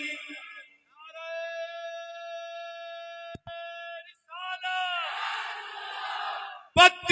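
A crowd at a Karbala shayari gathering answers a takbir call with a sustained loud collective chant, rising and falling over several seconds with a brief shout at the end.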